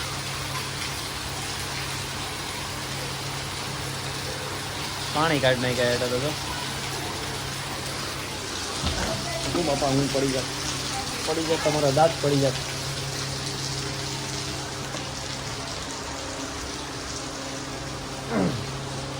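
Heavy rain pours steadily, a dense, continuous wash of hiss close by, while people talk over it at several points.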